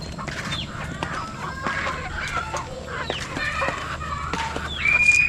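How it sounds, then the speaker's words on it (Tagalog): Chickens cluck repeatedly amid a busy outdoor backdrop, with several birds calling over one another at close range and a rising squawk near the end. "Yung alaga nating manok yan."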